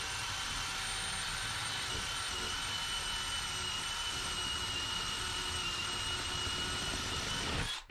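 A Craftsman brushless hammer drill bores with a dull, well-used 1-inch paddle bit, a steady high motor whine with gritty cutting noise running throughout before cutting off abruptly at the end.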